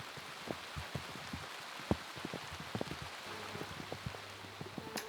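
Rain falls outside on a cold, wet day, a steady hiss of drops with scattered sharper taps and patters on surfaces, moderately close, with no voices.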